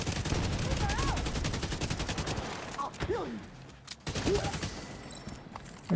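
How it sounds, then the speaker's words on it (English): Rapid automatic gunfire in The Division, fired at shielded enemies in a sustained burst, with a voice talking over it. "I'm gonna kind of shoot these guys on the shield a lot."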